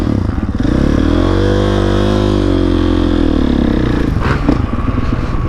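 A 2021 GasGas MC450F motorcycle engine runs close and loud, holding a steady idle-to-mid rev with a slight rise and fall in pitch, then a rougher clattering patch near the end.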